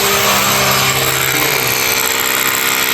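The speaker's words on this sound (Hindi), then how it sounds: "और हमने भाई ड्रिलिंग भी स्टार्ट कर दी है।" A power drill bores loudly and continuously into blocks to mount solar panels on a cattle farm, a dense, steady grinding whine that fills the whole stretch with no pauses.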